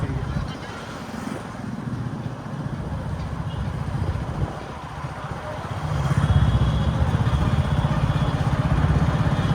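Motorcycle engine on a busy market road in a Punjab city, a steady low drone that swells louder partway through, with general traffic and wind noise around it.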